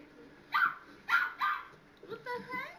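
Several people mimic a barking dog, bursts of voiced woofs and yips trading off in a rough rhythm with short gaps between them, close and fairly loud, with casual talk mixed in.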